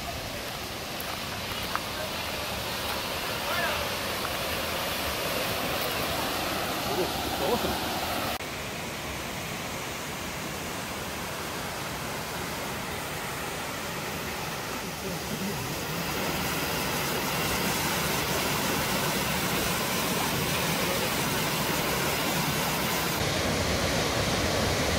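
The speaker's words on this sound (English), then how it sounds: "We can hear that waterfall very loud in the distance, so we're getting close." Main waterfall at Finch Hatton Gorge roars as a steady, loud broadband rush of falling water that fills the whole stretch without letup, growing slightly louder toward the end.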